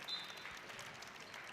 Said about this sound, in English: As the seniors get a nice round of applause on senior night